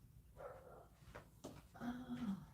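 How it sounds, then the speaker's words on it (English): Dogs bark faintly in the distance, a few scattered barks and a longer whining yelp rising from a quiet indoor background. "Can you guys hear those dogs?"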